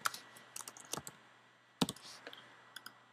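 An event title is typed on a computer keyboard: quiet, close key clicks in short irregular bursts separated by pauses, with no voices.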